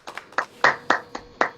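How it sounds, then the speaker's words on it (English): A few sharp hand claps, about six, come in an uneven burst in a radio studio during a call-in show, close and fairly dry, with no talk over them. "Big applause. Big applauso."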